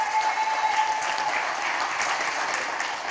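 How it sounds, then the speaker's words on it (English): Audience applause at a primary school elocution competition finals, a dense, loud burst of clapping sustained evenly throughout. "give them a round of applause"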